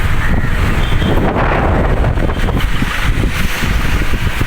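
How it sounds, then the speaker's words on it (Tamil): Strong wind buffets the microphone on the Pamban bridge at Rameswaram, a loud, continuous roar and rumble with no speech. "பாம்பை பாலம் காற்று ஆளை தூக்குது."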